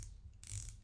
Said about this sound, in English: Very nice bezel movement